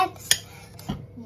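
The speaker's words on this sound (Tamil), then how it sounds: "அந்த பனானாவையும் ஓட்ஸையும் நம்ம நல்லா மிக்ஸ் பண்ணிக்கலாம்" Spoon clinking and scraping against a bowl while mashed banana and oats are stirred together, a few short close taps and a soft scrape.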